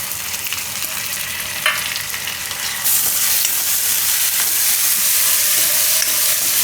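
Tomatoes drop into hot oil with frying peas and carrots for a Gujarati winter-style Maggi, bringing a loud, close sizzle that jumps in intensity partway through, with stirring and scraping.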